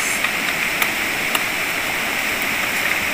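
Steady broadband rush of a waterfall, continuous and fairly loud with no pauses, a few faint clicks over the constant roar.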